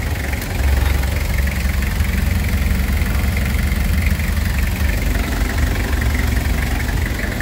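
A Toyota Hiace with a 2L engine idles steadily and close by, a low continuous rumble with a faint knocking texture and no talk.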